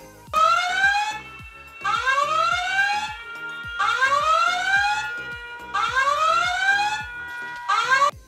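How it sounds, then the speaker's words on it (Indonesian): A tsunami warning siren wails in repeated rising whoops, about five long cycles with short gaps, loud and piercing. "pada saat adik-adik mendengar bunyi sirine seperti ini"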